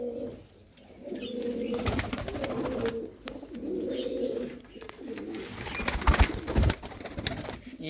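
Pigeons in a loft coo in repeated low, throaty phrases, fairly close and steady, with a few brief knocks and rustles breaking in near the end.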